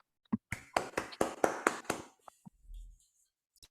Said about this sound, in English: another round of applause for Team Hack Overflow